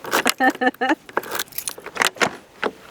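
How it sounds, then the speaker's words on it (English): A big bunch of keys jangles in quick bursts, close and loud, while a van is being stripped out; repeated metallic rattles and clinks come with short pauses between them. "look how many keys"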